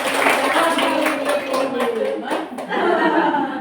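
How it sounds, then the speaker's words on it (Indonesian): A group of participants at a teachers' training session claps together, a brisk, fairly close burst of hand claps mixed with chatter, chuckles and light laughter. "Iya, tepuk tangan semua."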